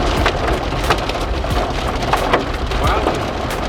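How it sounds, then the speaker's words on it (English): Heavy hail pelts down during a severe Australian thunderstorm, a dense, loud clatter of hard impacts on wood and other surfaces, continuous and close. "The hail was massive."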